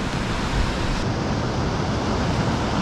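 Ocean surf washes steadily onto a beach, a dense broadband roar of breaking and receding water, loud and constant with no pauses.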